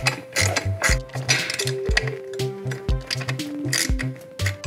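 A ratchet tightens screws on a Custom Dynamics laydown license plate holder on a motorcycle, producing bursts of quick, close mechanical clicks and ratcheting strokes with short pauses between them.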